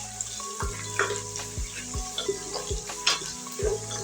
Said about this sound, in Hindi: प्याजों को ब्राउन होने तक फ्राई करेंगे अच्छी तरह